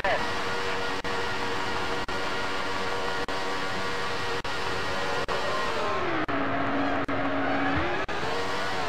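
Formula One car engine in the F1 World Grand Prix video game during a pit exit, a steady loud high-pitched whine with periodic brief dropouts, pitch dipping then climbing again near the end, close and continuous.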